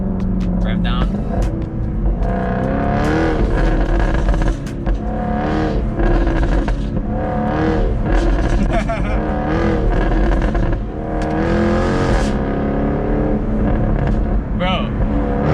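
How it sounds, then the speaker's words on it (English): A Jaguar F-Type R with its active exhaust open, in race mode and manual, revs hard and loud throughout, the engine rising and falling in repeated surges with exhaust crackle close by, under a voice talking. "make sure that exhaust is on, put it into manual, rev down, rev down"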